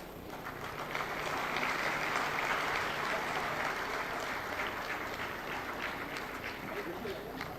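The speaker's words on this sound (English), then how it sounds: "Kindly keep the applause going." Sustained clapping from an audience at the National Energy Conservation Award 2022 prize ceremony as a student receives a prize: a dense, steady round of applause from a hall crowd, with faint voices underneath.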